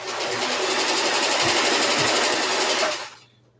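A sewing machine stitches a slip in a steady, fast, close whirring run lasting about three seconds before stopping abruptly.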